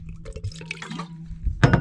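A small splash of water sloshing and dripping inside a GSI JavaDrip coffee maker, close and brief, ending in a louder burst of splashing.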